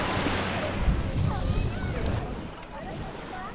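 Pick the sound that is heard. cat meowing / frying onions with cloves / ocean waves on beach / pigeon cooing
ocean waves on beach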